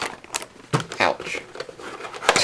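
A cardboard box holding Yu-Gi-Oh card packaging is torn and opened at close range, with scattered crinkling, rustling and tearing bursts and a faint voice in the background.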